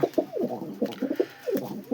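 Pigeons cooing close by in a loft: a steady string of soft, throaty, rolling coos overlapping one another, with no talking.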